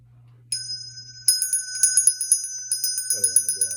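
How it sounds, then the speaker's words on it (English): A small bell rings clearly and repeatedly during a tarot reading, with bright sustained tones struck in a quick series of close, loud rings and a hum beneath, and a voice joins briefly near the end. "I gotta ring the bell on this."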